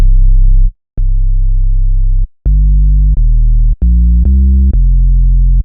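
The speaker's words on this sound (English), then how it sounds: "that's like a nice loud sub that has a little bit of warmth with those even overtones" Synthesized sine sub bass with added even overtones, a warm drum-style sub, played as a series of loud sustained notes at shifting pitches, separated by short gaps and sharp attack clicks, with no voices.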